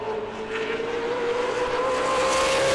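A Super Late Model race car exits turn four at New Smyrna during qualifying. Its engine holds a steady, rising howl the whole time at fairly close range, with no one talking.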